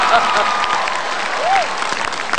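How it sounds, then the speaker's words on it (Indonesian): A crowd claps for Pak Ahok (Basuki) before his stand-up comedy turn, with loud, continuous applause throughout and a brief whistle-like tone partway through. "Tepuk tangan dulu dong untuk Pak Ahok."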